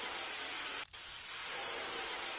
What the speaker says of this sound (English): And I'll spray your shoes.